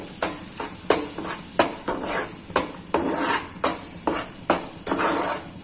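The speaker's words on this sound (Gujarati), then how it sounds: "હવે તેમાં આપણે આ રીતના એક મોટી ચમચી ભરી અને ઘીને ઉમેરી દેશું મિક્સ કરી દેશું" A spoon scrapes a pan in regular strokes, about ten sharp swishes over a soft sizzle of flour roasting in ghee, close and fairly loud, with no voices.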